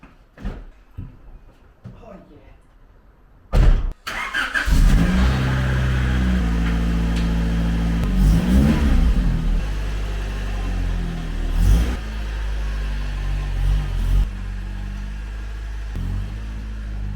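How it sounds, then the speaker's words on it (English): A Honda Civic SiR's engine catches after a door thud, then idles loud and close and rises as the car pulls away, with a few clunks over the engine drone. "but first I'm going to move Aaron's Civic"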